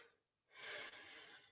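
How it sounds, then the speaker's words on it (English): A single quiet, breathy yawn from one person, a drawn-out airy exhale lasting about a second, close and soft. "Oh, pardon me, I'm yawning."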